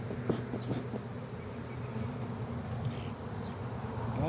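Honeybees buzzing in a dense drone inside an open backyard beehive during an inspection, close and steady throughout with faint handling noises and no talk.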